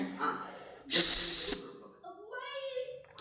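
A toy whistle gives one loud, shrill blast of about half a second close by, with brief child-like voices before and after it.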